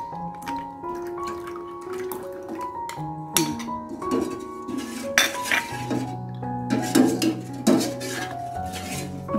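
A pot of Thai-style cassava dessert with coconut sauce and pandan leaves being stirred, with a spoon clinking and scraping against the pot in an irregular rhythm under steady background music.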